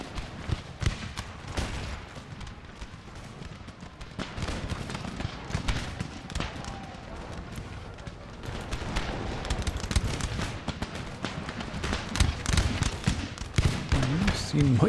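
Booming artillery and sharp gunfire volleys from the Empire: Total War battle, a dense barrage of cracks and thuds that swells louder toward the end, with a voice talking over it.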